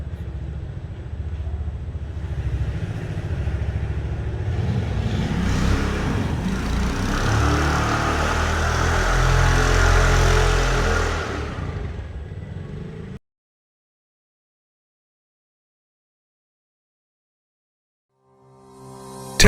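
A repaired Jeep Compass engine, previously troubleshot for engine noise, runs loud and steady with broadband mechanical roar and clatter for about thirteen seconds before cutting off abruptly into silence.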